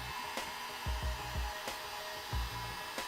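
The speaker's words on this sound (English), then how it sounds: "Heat it all around the headlights in even continuous motion for about 10 minutes." A heat gun is swept continuously around a Ferrari 488 GTB headlight to soften its permaseal, producing a steady close-up blowing rush with a few soft low thumps and brief knocks throughout.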